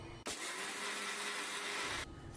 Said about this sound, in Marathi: हे शेंगदाणे मी छानसे खरपूस भाजलेले आहेत, त्याच्या साली अर्ध्यांच्या काढल्यात, अर्ध्यांच्या ठेवलेत, आणि आपण आता त्याला बारीक असं वाटून घेऊया।